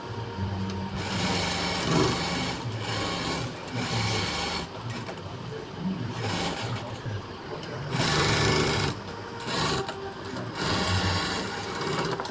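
A sewing machine stitches a blouse lining piece onto the front panel in steady, whirring bursts that start and stop, close and fairly loud throughout.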